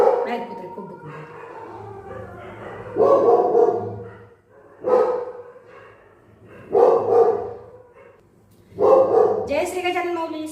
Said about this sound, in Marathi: बाकीचे कुत्रे पण खूप भुंकून राहिले आज.